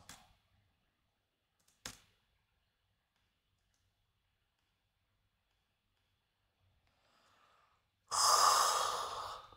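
A man yawns once, a long, loud, breathy exhale close to the microphone near the end, after a few faint clicks and soft breaths in otherwise quiet room tone.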